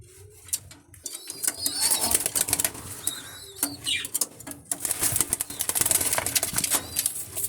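A restless racing pigeon flapping its wings in bursts of rapid fluttering, close by, among scattered bird calls and cooing.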